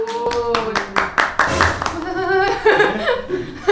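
A burst of hand clapping at the start, mixed with laughter and cheerful voices that carry on after the applause fades.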